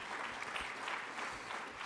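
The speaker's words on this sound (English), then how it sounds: "So let's give them all a round of applause." Audience applause at a community summit on opioid abuse, steady dense clapping filling the room for about two seconds at moderate level, with no voices over it.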